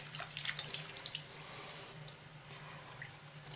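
Tap water runs into a sink during rinsing at a tattoo studio, a near, steady splashing flow with a few brief drips and knocks, and no voices.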